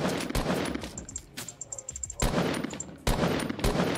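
Gunfire in the video game Fortnite: Battle Royale, with several sharp shots fired in quick, irregular bursts and short pauses between them.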